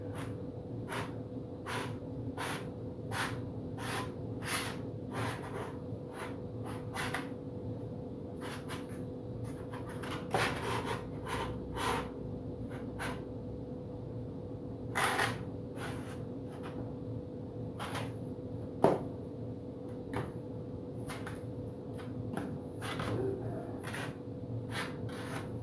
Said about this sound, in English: I'm just using the T-bar sander so that I know my sheeting is being placed on there nice and straight.